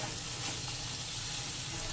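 Fried okra being stirred into spiced oil in a pan, giving a continuous close bright sizzle and hiss with soft scraping of the stirring under it.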